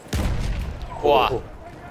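A tank firing on players in the Battlefield 1 video game: a heavy boom with a rumbling tail, closely followed by a short, sharper blast, both near and loud, with a voice over them.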